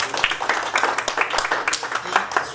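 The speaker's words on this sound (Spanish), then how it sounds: "ofrecemos un aplauso" Audience clapping for a speaker at a lecture seminar, a dense patter of many hands at steady strength, with a voice faintly under it.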